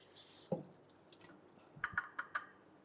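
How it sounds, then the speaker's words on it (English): Water rinsing a Thermomix lid, heard as a faint trickle with a single clunk followed by a short run of light, evenly spaced drips or taps, quiet and close with no voices. "Rinse up a little bit of your lid."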